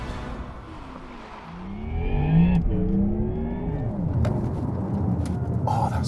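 Porsche Taycan GTS electric sedan driving on a track, its motor whine rising and sweeping in pitch as it accelerates, fairly close, with a steady rushing road and wind noise underneath.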